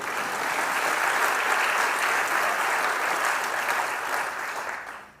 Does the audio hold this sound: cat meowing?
no